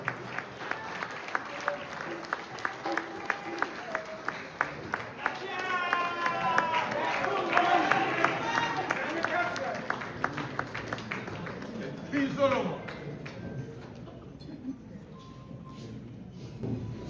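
Audience applause welcoming the Asantehene, King Otumfuo Osei Tutu II, at a power breakfast event in Canada: steady clapping from a crowd that swells midway and then tapers, with voices mixed in.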